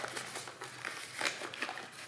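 Paper wrapping around a canned tapered roller bearing crinkles in a few quick, soft rustles, close up and fairly quiet, with no voices over it.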